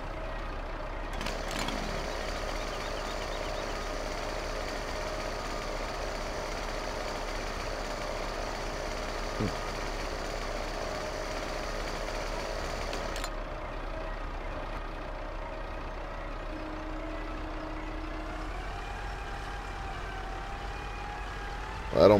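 A small tractor engine runs steadily while pulling a tree, a continuous droning rumble that stays even throughout, moderately loud and close, with the pitch shifting slightly partway through.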